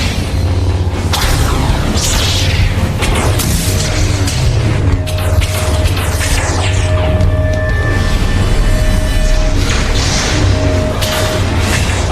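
A mecha army opens fire in an animated battle: continuous loud artillery booms and blasts with whooshing and mechanical clatter, layered with a dense score, no pause across the whole stretch.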